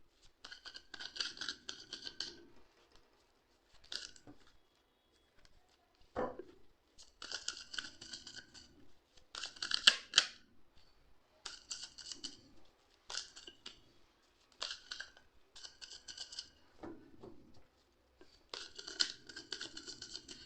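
Tarot cards shuffled by hand in repeated bursts of crisp riffling and flicking, with brief pauses between bursts, close and fairly quiet, with no talking.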